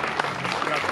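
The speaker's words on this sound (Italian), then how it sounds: "E applaudono tutti i sindaci." Mayors applauding together, a brief dense patter of clapping under a speaking voice.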